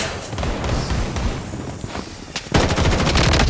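Gunfire in the video game Blood Strike, with rapid machine-gun bursts and scattered shots that break into a dense, loud volley in the final second, no talk.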